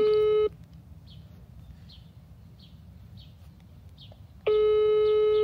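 After a redial to a landline from outdoors on a hot day, a loud phone call tone sounds. It breaks off while birds chirp in the background, then returns at the end.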